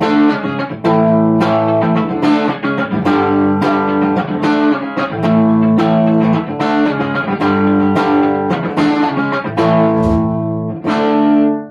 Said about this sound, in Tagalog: Ito po yung tunog ng bridge pickup.